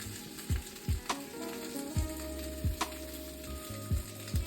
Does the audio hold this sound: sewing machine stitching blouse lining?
no